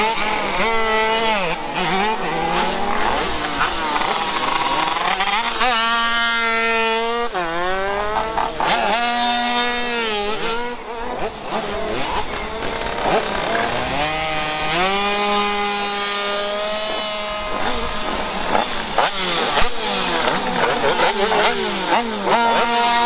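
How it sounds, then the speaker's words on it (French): Motorcycles and scooters at a scooter rally weekend rev and whine as they ride past, engines rising and falling in pitch as they sweep by, several machines overlapping, loud and close throughout. "Des motos incroyables dans tous les sens."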